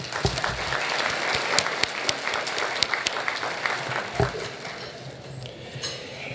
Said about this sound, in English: Please give the committee a round of applause.